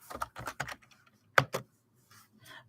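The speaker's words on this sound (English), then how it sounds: "Let me type in" Typing on a computer keyboard, a few quick bursts of close key clicks separated by short pauses, with no talking.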